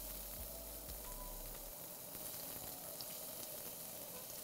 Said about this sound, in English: So I'm just gonna do a little sprinkle of these onions.